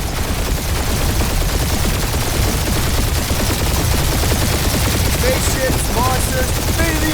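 Rapid, steady spaceship gunfire in a Guardians of the Galaxy space dogfight, a dense continuous rattle of shots over loud engine roar, with chirpy electronic blips near the end.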